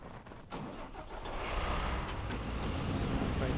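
Vehicle engine of the Yar in a video game, starting up faint and then settling into a steady, broadband rumble that holds loud and constant to the end.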